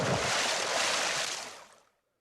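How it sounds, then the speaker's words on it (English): Big splash of a person thrown into a cold river, a loud broadband rush of water that surges at once, holds for over a second, then fades out quickly into silence. "And so the friar threw Robin into the cold water."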